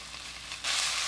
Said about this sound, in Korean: 팬이 달궈질 때까지 그대로 두었다가 지글지글 소리가 나기 시작하면 볶아줍니다